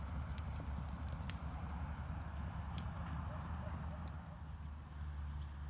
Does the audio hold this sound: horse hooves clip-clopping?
yes